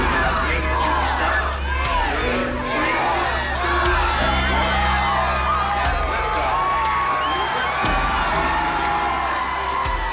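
A large outdoor crowd of spectators cheers and whoops at the Space Shuttle Challenger liftoff. The roar is dense and sustained, with overlapping shouts and cries, and a low rumble stays underneath throughout.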